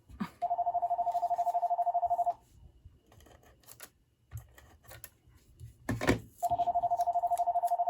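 A house telephone rings in two bursts of steady electronic trilling, loud and close, with a quiet gap between them filled by faint handling and rustling noises.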